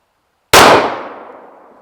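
A single loud gunshot strikes a metal zombie target with a sharp crack. The crack rings out and fades slowly over about a second and a half, with no other sound around it.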